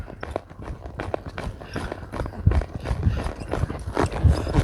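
A horse lopes, its hoofbeats drumming in a quick, uneven three-beat rhythm on soft ground, fairly close and continuous.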